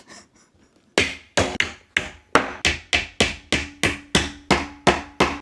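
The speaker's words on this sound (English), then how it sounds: "I have to nail this backboard on, because this backboard makes it nice and sturdy" Nails hammered into the backboard of an IKEA shelf, a dozen sharp, evenly spaced blows in a steady rhythm, close and fairly loud, after a few faint taps at the start.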